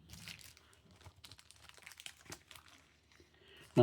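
Marvel Annual trading cards, including foil Black Panther and Shang-Chi cards, slid into thin plastic sleeves: soft, close crinkling and rustling of plastic with small taps, quiet throughout until a sudden louder knock at the very end.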